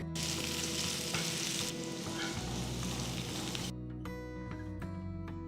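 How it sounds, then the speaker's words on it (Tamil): Steady, close sizzling of sliced onion and green chillies frying in a hot pan, with a stirring scrape partway through. "அதே பேனில் ஒரு வெங்காயம் மெலிசா நறுக்குனது, 3 பச்சை மிளகாய் கீர்னது போடுறேன்"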